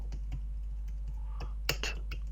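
Close-up typing on a computer keyboard gives scattered, crisp key clicks at an uneven pace, with a slightly louder cluster near the end over a low hum and no voices.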